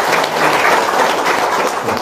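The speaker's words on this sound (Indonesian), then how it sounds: "Tepuk tangan dong." Loud applause from the audience at an Indonesian religious talk: a continuous, dense wash of clapping at close range, steady for the whole stretch with no voices above it.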